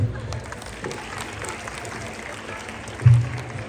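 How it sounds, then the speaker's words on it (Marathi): A crowd claps steadily in a continuous wash of applause at a village game show event, with a few voices mixed in and a brief louder burst near the end. "जोरात टाळ्या वाजवा."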